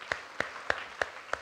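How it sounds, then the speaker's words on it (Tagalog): A church congregation claps in unison during a worship service: five sharp, evenly spaced claps at a brisk, steady beat. "Yan ang malakas na palakpak."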